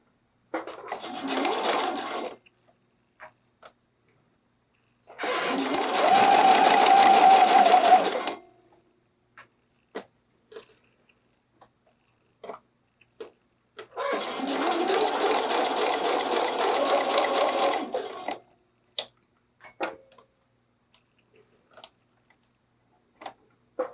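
A sewing machine stitches a bralette dart seam in three bursts of rapid, even whirring, the longest lasting several seconds, with scattered small clicks and handling taps in the quiet gaps between.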